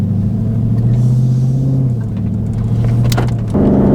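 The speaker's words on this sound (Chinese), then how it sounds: "改过排气过后，感觉那个声浪是会大很多" A Dodge muscle car's 6.4-litre naturally aspirated V8 with a modified exhaust rumbles loudly and close up. The deep burble dips in pitch midway, then rises sharply near the end.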